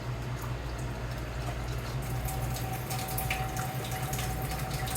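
Tap water pouring into a cooking pot in a home kitchen, a steady, fairly quiet rush of running water with a constant low hum beneath it and no speech.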